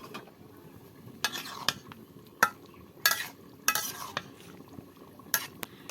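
Fried potatoes and okra are stirred into a cooked spice masala in a village kitchen, with a spoon scraping and clinking against the pan in irregular bursts over a soft, steady sizzle.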